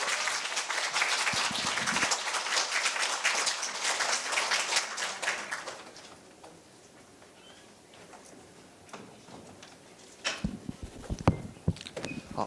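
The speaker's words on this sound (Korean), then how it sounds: "큰 박수로 맞아주십시오." Applause rises from the audience at a Korean middle school speaking festival at Korea University, greeting the student hosts as they are introduced; loud, dense clapping for about six seconds, then fading into quiet before a few scattered claps return.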